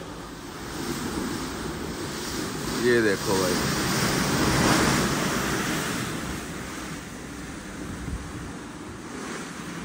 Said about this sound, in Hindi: लहरें बहुत ही ज्यादा हैं।